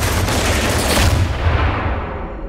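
Gunfire from a film scene set during riots in Detroit, a dense, continuous roar of overlapping shots and booms, loud and close, fading slightly at the end with no voices.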